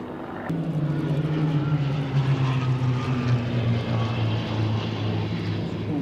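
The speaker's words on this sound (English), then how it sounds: "so as the Spitfires break." Spitfire aircraft break formation at an air display, a loud sustained propeller engine drone with a steady deep hum that swells slightly and holds for several seconds, unaccompanied by talk.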